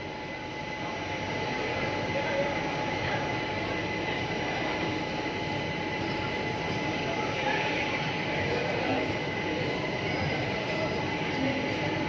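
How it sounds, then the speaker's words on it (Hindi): The Sabarmati Express departs Chandigarh station after a short stop. It makes a steady, even rumble with a sustained hum, heard from on board, and the level stays constant throughout. "और अपनी ट्रेन का चंडीगढ़ से डिपार्चर हो रहा है।"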